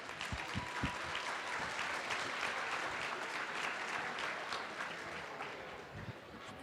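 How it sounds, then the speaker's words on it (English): Applause for honorees at a volunteer awards luncheon, a continuous sustained round of clapping from a sizable crowd filling the room at moderate level, with no voices over it. "Let's give our honorees a round of applause, please."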